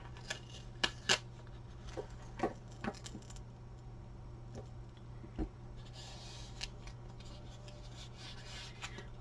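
Roll of 2-inch tape handled at a craft table, quiet rustles and a few sharp crackling pulls and tears, close and faint, no talking.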